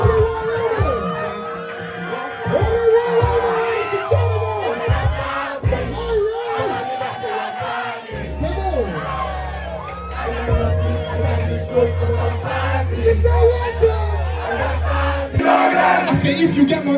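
A loud concert crowd in Jalingo, Nigeria roars and cheers continuously, with whoops and shouts over booming bass music throughout.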